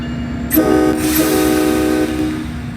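An MBTA F40PH-3C locomotive on the Stoughton Line in the Train Sim World 2 game gives two loud, close horn blasts over a steady engine rumble.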